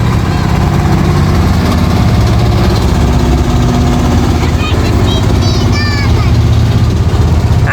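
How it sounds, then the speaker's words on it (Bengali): A big boat speeding past on tidal water, heard as a loud, continuous engine drone and rumble filling the scene, with voices faintly audible underneath. "এই যে দেখো একটা বড় বোট চলে আসছে, দেখছো কত বড় বোট। হ্যাঁ অনেক স্পিডে বোট যাচ্ছে।"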